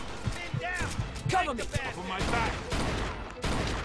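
Gunfire in the Mafia 2 video game, sharp repeated shots and bursts scattered across the moment, mixed with a game character's shouting and other chatter over the noise.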